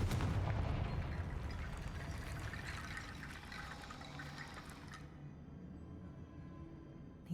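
A Confringo fire spell explodes in Hogwarts Legacy as a dense, rumbling blast with a rushing, crackling wash that stays loud for several seconds, then thins to a quieter tail.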